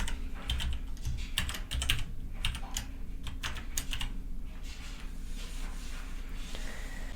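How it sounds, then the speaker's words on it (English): Someone types a Wi-Fi password on a computer keyboard while setting up a Raspberry Pi photo frame, giving clusters of quick, close key clicks that thin out toward the end over a low background hum. "I'm going to type in my Wi-Fi password."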